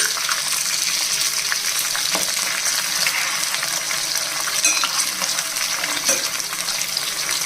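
Chana dal and urad dal fry in oil in a pan, a steady dense crackling sizzle close to the ear throughout, with faint occasional stirring sounds and no talk.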